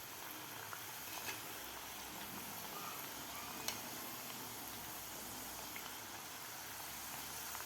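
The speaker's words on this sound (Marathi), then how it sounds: "तर व्यवस्थित आपल्याला हे कापण्या तळून घ्यायच्या आहेत." Jaggery and wheat-flour kapanya frying in hot oil over medium heat, a steady close fizzing sizzle with faint crackles and one sharp pop, no talking.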